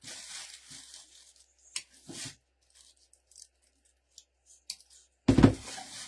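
Scissors cut material for a pastel snowman swag in a few separate snips, close by, with quiet gaps between them and a louder rustle at the end.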